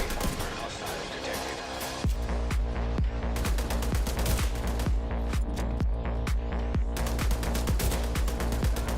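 Heavy gunners opening up in the shooter The Division 2: rapid, sustained machine-gun bursts, sharp repeated cracks in quick rhythm over a low droning rumble, loud and close, with a brief gap before the fire resumes.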